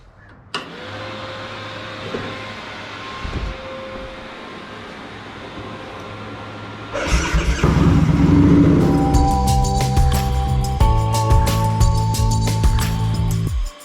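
An old car nicknamed Oddball cranks and starts, idles steadily, then its engine grows louder and rougher as it pulls away, loud and close, with no talking.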